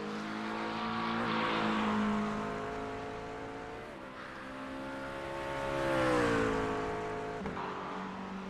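A McLaren GT3 race car in the Antic Motorsports livery, driven in a racing sim at the Nurburgring, holds a loud, steady engine note that rises and falls as it shifts through gears, with no talk over it.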